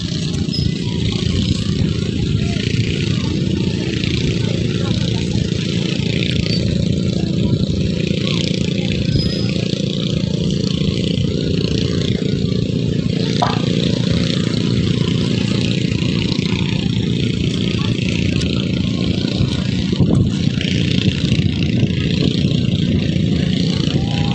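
Motorized dragon boat engine running out at sea in the Philippines, a loud, steady droning hum that holds evenly without pause for the whole stretch, close by and unbroken.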